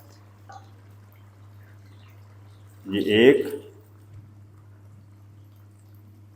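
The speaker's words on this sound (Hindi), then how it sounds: "और अब हम इस टाइम पे आके इसको गलाने के लिए इसमें पानी शामिल करेंगे।" Water is poured into a pot of chana dal gosht in one short, close splash lasting about a second. A low steady hum runs underneath, and a voice speaks briefly.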